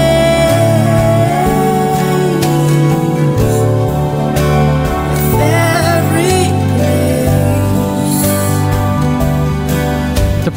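A fully produced song, its vocal performance time-stretched in Reason to lock onto the DAW metronome, plays loud and dense with steady beat, sung melody and layered instruments throughout.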